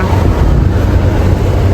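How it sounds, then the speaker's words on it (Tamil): Strong cold wind blowing hard across the microphone outdoors near Hiriyur in Karnataka ahead of heavy rain, a loud constant low rumbling roar with no voices. "நல்ல காற்றுங்க குளிர் காற்று மழை ஹெவியாக வரப்போகுதுங்க"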